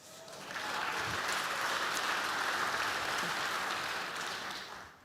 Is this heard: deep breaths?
no